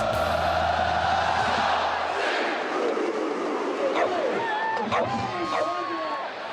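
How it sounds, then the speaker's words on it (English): A college football stadium crowd roars and cheers in a frenzy at the sight of Uga the Sixth, the bulldog mascot, a loud sustained crowd roar that fades into scattered whoops and shouts. "Just the sight of Uga puts the crowd in a frenzy."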